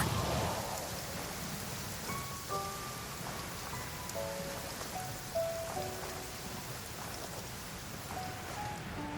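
Steady heavy rain downpour in the Genshin Impact game world, a dense continuous hiss of drops on surfaces, with soft tonal chimes and bell-like notes drifting over it.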